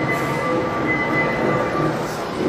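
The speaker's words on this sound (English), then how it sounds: "Here comes the train." A train arrives inside a station, giving a steady rumbling roll with faint high squealing tones from the wheels, continuous and fairly loud throughout.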